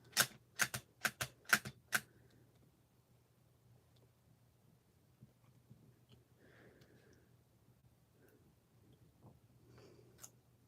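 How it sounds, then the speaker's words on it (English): Crafting stamp pressed down repeatedly to cut out cards for trick-or-treat journals, six sharp close taps in quick succession, followed by faint rustling of paper scraps in a quiet room. "Let's stamp this out 2 more times."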